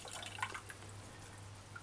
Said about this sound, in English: I'm just going to pour the water in a cup